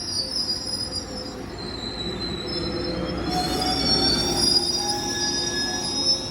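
Metrolink commuter train rolling through San Clemente, its wheels squealing in sustained high-pitched tones over a steady rumble of rail noise, moderately distant and growing a little louder toward the end, with no talk.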